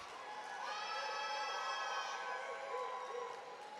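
Graduating students at a high school commencement cheer and scream loudly together, a sustained crowd roar with high shrieks lasting several seconds.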